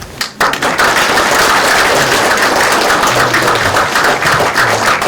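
Loud, dense applause from an audience at a retirement ceremony, sustained clapping that swells quickly after a brief opening gap and carries on steadily at close range.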